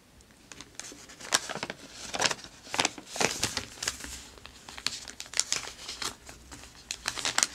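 Crinkly, retro catalog pages flipped up close for ASMR, giving a rhythmic series of crisp paper rustles and crackles, one page turn after another with brief gaps between.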